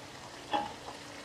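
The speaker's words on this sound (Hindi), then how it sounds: "चिकन को अच्छे से भूनने के बाद हम इसमें साबुत गरम मसाला ऐड कर देंगे।" Chicken frying in a pan with whole garam masala for Sindhi biryani: a low steady sizzle with one brief stirring scrape, close and quiet, with no talking.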